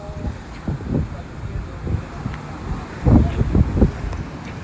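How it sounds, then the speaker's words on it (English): Strong wind during stormy weather in San Juan buffets the microphone in low, rumbling gusts, swelling louder near the end, with no other clear sounds. "Not overly cold, which is nice. Very windy."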